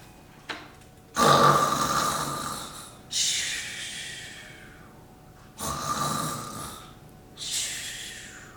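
Loud, rasping snores come in four slow, evenly spaced breaths, each a harsh inhale fading away, close and alone without talk.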